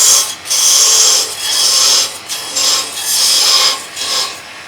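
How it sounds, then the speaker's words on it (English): Thin parting tool cutting into wood on a lathe while turning a box, loud close rasping hiss in repeated bursts of about a second each with brief pauses between cuts. "we're going to part down with the thin parting tool here. Make sure you go down in 2 cuts."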